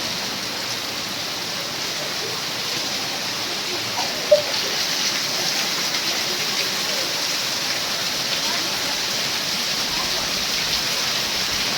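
Heavy rain falls in a village, a steady dense hiss of water pouring down without letup and a single small knock partway through.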